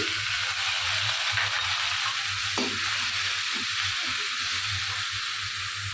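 Onion frying in a pan with turmeric, chili, coriander, garlic paste, cumin and salt as the base for a fish curry, sizzling steadily and close up with occasional stirring scrapes, no voices.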